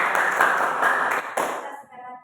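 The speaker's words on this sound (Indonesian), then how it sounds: "kita tepuk tangan dulu" A group of people in a classroom claps briefly for a couple of seconds, fading out as the clapping ends.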